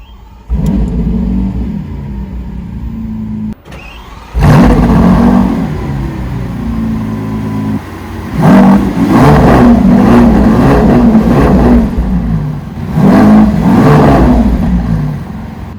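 The V12 of a Lamborghini Aventador Ultimae starts up in Corsa mode with a sharp bark and settles into a loud, close idle. Several deep throttle blips follow, each swelling into a roaring rev before falling back.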